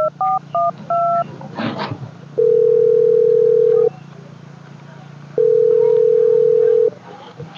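A phone call is placed: a quick run of keypad dialing beeps, then two long, loud ringback tones separated by a pause of line hiss while waiting for an answer.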